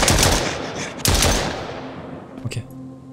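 Gunfire in the survival video game Mist Survival, five rounds fired: two loud, sharp blasts a second apart, each ringing out into a long decaying echo, followed by a softer pair of quick shots near the end.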